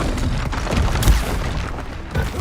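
In Hogwarts Legacy, the Confringo blasting curse sets off a series of deep booming explosions amid spell combat. The heavy thuds repeat, with the strongest blast near the middle, over a constant rumble of battle.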